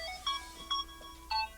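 Phone text message notification tone: a few short bright electronic beeps in a quick repeating pattern, clear and fairly close over a low background hum, with no talking.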